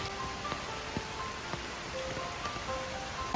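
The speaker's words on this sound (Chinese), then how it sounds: "开始下雨了，还算是幸运" Rain falling on a forested mountain trail near a trailhead, a steady soft hiss with scattered drops pattering on leaves, no voices.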